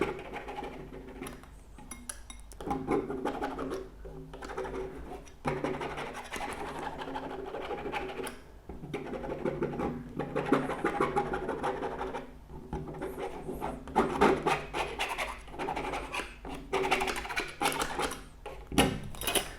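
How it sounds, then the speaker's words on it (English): Dry oil paint is scratched and scraped across a canvas outdoors while plein air painting at Godrevy beach in Cornwall, making continuous close rasping and rubbing strokes in uneven bursts, alone without talk. "And we just scratch a few areas around."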